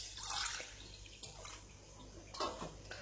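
Rice is washed in water in a home kitchen, giving faint sloshing and dripping splashes in a few short bursts.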